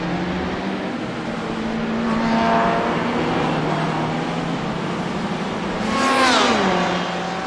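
Race car engines in a Daytona 12 Hours endurance racing video game, a steady droning motor note with rising and falling pitch as a car slows, and another passes close by with a quick swelling whine near the end.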